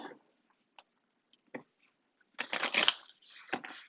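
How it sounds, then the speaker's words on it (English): Shuffling tarot cards: a few faint isolated clicks and taps, then a dense riffling flutter of cards, a brief pause, and another short burst of shuffling. "do a shuffle here"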